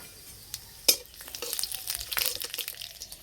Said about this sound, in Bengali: তেলে দেবো 5 ফোড়ন, শুকনো লঙ্কা,